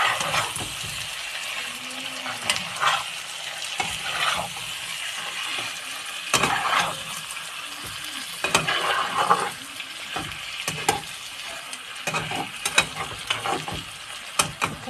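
White duck meat fries in a pan while it is stirred, a constant moderate sizzle with irregular scraping and clattering strokes of the spoon throughout, and no one speaking.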